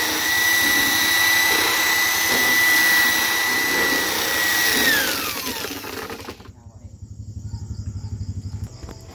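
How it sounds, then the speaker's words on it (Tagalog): An electric power drill whirs steadily while mixing a batch of homemade liquid detergent, loud and close, then its pitch drops as the motor winds down and stops, leaving quieter background noise. "Para mas maganda yung pagka-mix. Gamitan natin ng drill."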